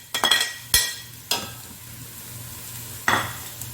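Onion and vegetables stir-fried in a pan for vegetable fried rice, a few sharp scrapes and clanks of a spoon against the pan over a low sizzle, close and intermittent.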